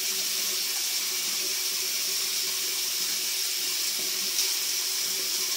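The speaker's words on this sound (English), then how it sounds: "when I rinse my face cloth, all the dirt, you can see" A tap runs steadily into a bathroom sink while a face cloth is rinsed, giving a constant, close hiss of flowing water that holds evenly from start to finish with no voices.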